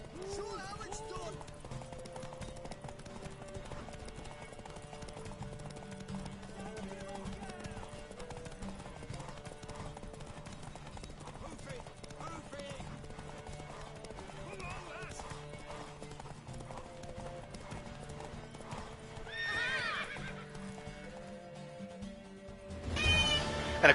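Steady hoofbeats of a horse galloping in a race in The Witcher 3 run under game music and character voices, with a whinny and a louder burst near the end.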